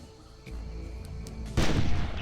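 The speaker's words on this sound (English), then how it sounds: "One slug to the spine brings the carnivore down" A hunting shotgun slug fired at a dinosaur in the video game Carnivores: a single heavy boom with a rough, noisy burst that rings out briefly, loud and close over a low rumbling background.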